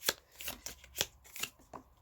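Tarot cards being shuffled by hand, a quiet, close sequence of short riffling flutters and soft taps in an uneven rhythm, heard alone.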